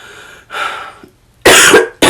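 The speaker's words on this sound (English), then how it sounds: "so it's like making me cough right now." A person coughs three times in quick, harsh bursts, close and loud, with short pauses of breath between them.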